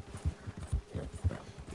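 Horse hooves clip-clop on the ground in Red Dead Redemption 2, several faint, evenly spaced hoofbeats at a walking pace.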